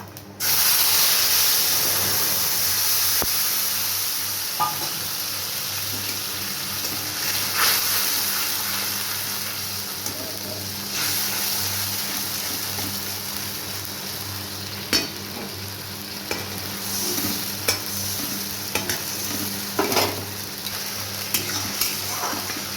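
A paste of ginger, garlic, onion and dried red chili hits hot oil already holding five-spice seeds, base for a Bengali fish curry with taro and potato. A loud, continuous sizzle runs throughout, with scattered sharp pops and spits.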